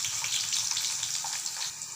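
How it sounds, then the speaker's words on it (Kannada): Cumin and mustard seeds sputtering in hot oil, a dense continuous crackling hiss held close and steady throughout. "ಎಣ್ಣೆ ಕಾದ್ಮೇಲೆ ಜೀರಿಗೆ, ಸಾಸಿವೆನ ಹಾಕ್ಕೊಬೇಕು. ಇದನ್ನು ಸ್ವಲ್ಪ ಚಟಪಟ ಸಿಡ್ದಾದ್ಮೇಲೆ ಈರುಳ್ಳಿ ಹಾಕ್ಕೊಬೇಕು"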